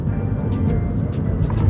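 Car driving along a road in Lagos, Nigeria, between Victoria Island and Lekki, heard as a steady, fairly loud low road rumble with faint passing hiss.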